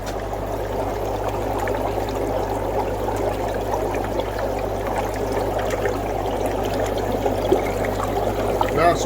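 Water steadily bubbling and pouring through an Eazypod brush cleaning system, a continuous close trickling and gurgling over a low constant hum.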